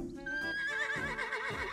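A horse in the video game Miitopia gives a loud, close whinny that rises and wavers for under two seconds, alone with no talk.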